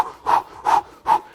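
Three heavy, forceful breaths pushed out through the mouth during a natural gymnastics breathing exercise, evenly spaced and close, with quiet pauses between each exhale.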